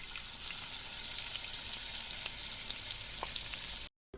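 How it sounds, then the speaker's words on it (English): Black pepper sizzles steadily in olive oil in a pan while cacio e pepe is being made, a constant close hiss with a few faint pops and no voices, stopping abruptly just before the end. "The pepper is already starting to sizzle in the pan with the olive oil."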